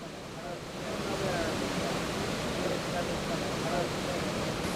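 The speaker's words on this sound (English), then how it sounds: "Kabwelume Falls is undoubtedly one of the most attractive and scenic waterfalls" Kabwelume Falls on the Kalungwishi River in Zambia, heard as a steady, dense roar of falling water, continuous and fairly faint, with no talk over it.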